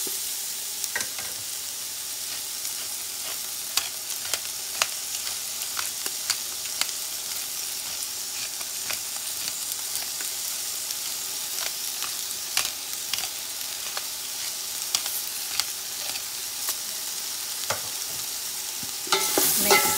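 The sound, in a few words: cabbage being stir-fried in a pan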